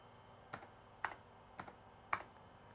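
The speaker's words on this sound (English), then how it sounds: "let's go back over to the keyboard" Four sparse, quiet keystrokes on an Apple IIgs computer keyboard, evenly spaced about half a second apart, with no voices.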